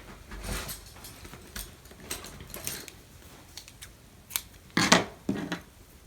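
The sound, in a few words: scissors cutting yarn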